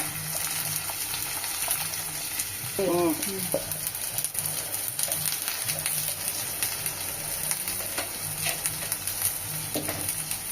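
Shallots and garlic frying in a pan for a South Indian garlic curry, a steady broadband sizzle with occasional stirring scrapes, close and continuous.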